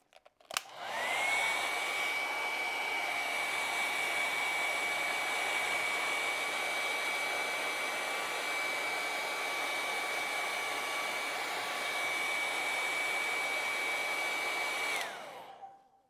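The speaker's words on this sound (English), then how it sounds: "I'm gonna take the hairdryer to it a little bit longer." A fairly weak hair dryer blows on acrylic paint steadily for about fifteen seconds, a constant airy rush with a thin high whine, switching on and off cleanly.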